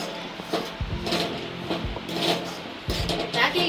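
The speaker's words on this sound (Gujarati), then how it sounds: "આપણે ઘી નાખી દઈશું થોડું અને બધું સરસ મિશ્રણ કરી લેશું" A spoon scrapes and clinks in a pot as ghee is stirred into a sweet ghari mixture, with irregular rubbing strokes and soft metallic knocks, close by, with faint talk in the background.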